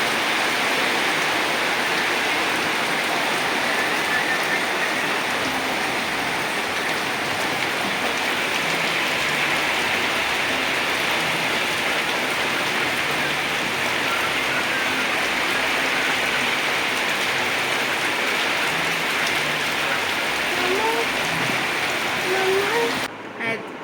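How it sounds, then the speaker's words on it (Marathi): Heavy monsoon rain with strong wind pours down in Goa, a dense, even roar that stays loud and unbroken throughout. "वारें असो मारलें चड सामकें चड मारलें वारें पावस येयलो मोदें पावस"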